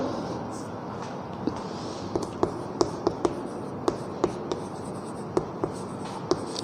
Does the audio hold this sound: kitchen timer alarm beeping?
no